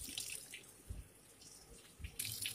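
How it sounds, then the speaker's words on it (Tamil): A washing machine drum fills with water during a tub-cleaning cycle, giving a faint, steady rush of running water broken by a few brief splashy surges. "பாருங்கள், தண்ணி வர ஆரம்பிச்சிருச்சு."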